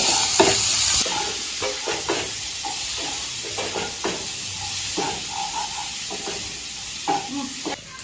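Potatoes sautéing in hot oil in a pan for Bengali aloo dum in a village kitchen, a steady sizzle and hiss broken by repeated scraping stirs of a spatula across the pan.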